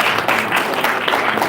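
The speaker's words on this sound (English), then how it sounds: "Let's give them one more round of applause." A graduation crowd applauds the graduates of a Detroit-area mentorship group: dense, steady clapping from many hands fills the whole moment at an even, sustained loudness with no voices over it.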